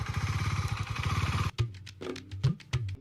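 KTM and BMW GS motorcycles at a drag race start: a steady, close engine drone holds, then breaks off into uneven revving bursts and clatter.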